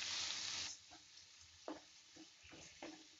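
Sauce with chowmein masala, salt and red chili powder sizzling in a pan, a loud steady frying hiss at first that drops back, followed by several scraping stirs of a spoon against the pan.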